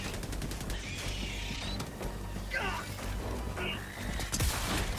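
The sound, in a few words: Blitzer gun firing in video game Helldivers 2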